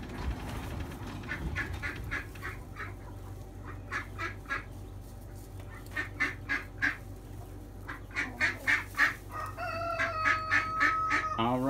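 A broody hen clucks in a coop beside an empty nest, with repeated close, rhythmic clucks and calls in bursts over a low steady hum.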